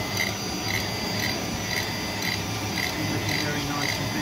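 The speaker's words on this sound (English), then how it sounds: "So I'm trying a engraving on a piece of leatherette" An AlgoLaser Delta 40W laser engraver works on a piece of leatherette, making a steady low whirring hiss with soft repeating pulses about every half second as the head moves back and forth.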